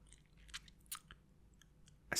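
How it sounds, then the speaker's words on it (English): Crunchy bites into a chocolate glazed doughnut, the icing cracking in a few close, soft crackles with a sharper crunch at the end, quiet and intimate with no talking. "You're going to bite in and you're going to get a small crunch because of the icing, the glazing."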